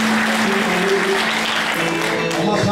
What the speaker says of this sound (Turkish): Ya hadi meydan sizi bir alkışlayın.